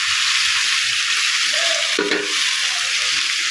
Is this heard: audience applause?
no